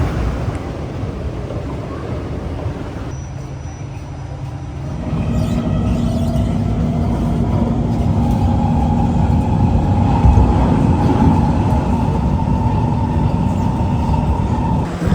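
Onboard a metro train heading to Al Junaid metro station, a steady low rumble of the moving carriage grows louder partway through as the train picks up speed, with faint rail hum and no talking.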